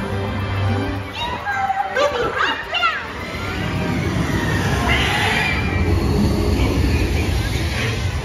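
A Walt Disney World ride train rumbles along steadily while children shout and chatter nearby, with excited voices rising over the continuous rolling noise.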